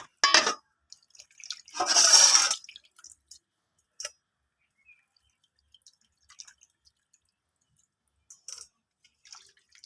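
Water splashes over golda chingri prawns as they are washed by hand: two bursts of pouring and sloshing, then scattered drips and small splashes fading into quiet.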